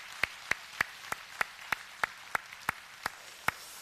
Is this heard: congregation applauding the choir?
yes